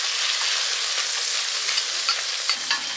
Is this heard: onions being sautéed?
yes